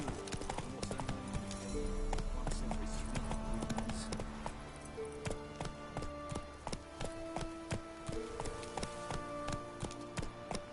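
Roach, the horse in The Witcher 3: Wild Hunt (Blood and Wine), gallops with a steady clip-clop of hooves beneath game music and effects, the hoofbeats close and fairly loud throughout.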